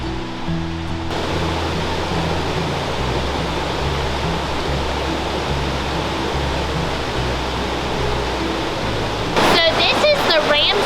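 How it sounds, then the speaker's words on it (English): Ramsey Prong of the Little River, a mountain stream in the Smoky Mountains, rushes in a steady, dense broadband roar that holds unchanged throughout, with a brief rattle of handling noise near the end. "So this is the Ramsey prong portion of the Little Kitchen River, and it flows off of the second tallest mountain"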